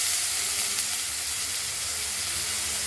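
Mustard seeds and black cumin tempering in hot oil, a continuous bright hiss and sizzle, close and fairly even throughout, with no voices.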